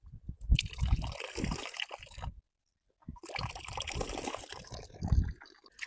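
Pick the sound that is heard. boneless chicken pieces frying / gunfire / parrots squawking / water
water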